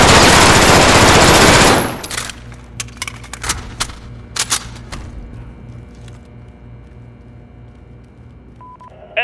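Enemy gunfire in a Call of Duty: Modern Warfare Capture the Flag match: a dense, loud burst of automatic fire for about two seconds, then scattered sharp shots and thuds over a low steady game drone.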